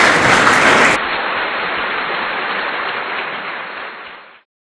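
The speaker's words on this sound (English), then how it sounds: "A round of applause." Audience applause at a school cyber security talk at DAV Public School, a broad, dense wash of many hands clapping that fills the room for about four seconds, then thins and fades out.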